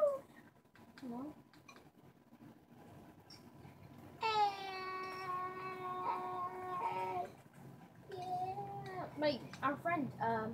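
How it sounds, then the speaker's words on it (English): A cat meows in a drawn-out, wavering call, followed by shorter meows, with faint voices of people gaming around it. "a friendly cat joined"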